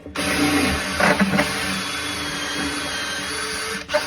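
A power drill bores holes into a bathroom wall, grinding steadily and loudly with a few uneven surges as the bit bites, then cutting off near the end.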